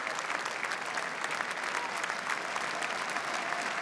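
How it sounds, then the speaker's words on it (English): Football stadium crowd at a Wrexham versus Nottingham Forest FA Cup third-round match applauding in tribute, a sustained, even roar of thousands of clapping hands heard from a distance. "the applause around the stadium is in memory of Terry Yorath"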